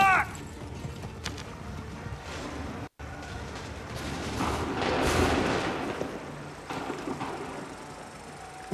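Musket volleys in Assassin's Creed 3, a battlefield of booming shots and scattered gunfire under a continuous roar, with the fire swelling midway and shouted voices around it.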